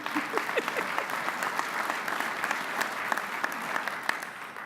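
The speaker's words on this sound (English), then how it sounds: "a lot of folks, please clap for that too" Steady audience applause at a 2015 legislative conference, dense sustained clapping from a sizable room holding at an even level for several seconds with little talk.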